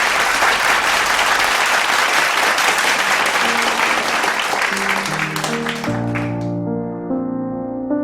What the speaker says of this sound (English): Give them a great big round of applause.